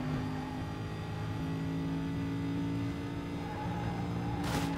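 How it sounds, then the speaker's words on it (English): A Lamborghini engine in the video game Need for Speed: Most Wanted hums and revs steadily at close range, a continuous throaty drone with a brief burst of noise at the very end. "I hear that Lamborghini engine purring."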